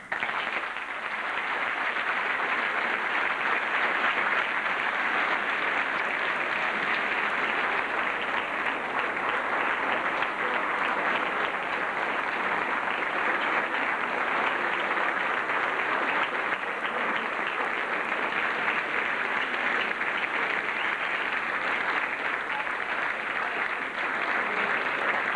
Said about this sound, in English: let's all break the sounds of silence with a round of roaring applause for this wonderful role model, Mrs. Termat.